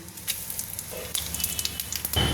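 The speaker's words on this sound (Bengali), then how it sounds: "এখানে তেল গরম হয়ে গিয়েছে, আমি কটা তেজপাতা দিয়ে দিলাম, শুকনো লঙ্কা দিয়ে দিলাম কয়েকটা" Steady hissing sizzle of bay leaves, dried chillies and five-spice frying in hot oil, with scattered crackles and pops, close and continuous.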